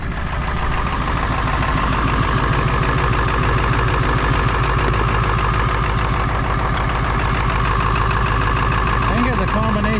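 A diesel engine with glow plug and valve cover harness faults runs steadily at a close, loud idle with a rough, knocking pulse, while people talk over it.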